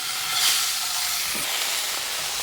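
Fish frying in a hot pan as it is flipped over for Thai-style cooking, a steady bright sizzle with a slight surge near the start, loud and continuous without any talking.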